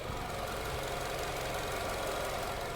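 A smooth, steady idle from a 2017 Nissan Altima 2.5 engine hums evenly and quietly throughout, with no talking.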